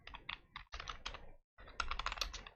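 Rapid typing on a computer keyboard while entering Python code, dense bursts of close clicking broken by two short pauses, loud and clear with no voices.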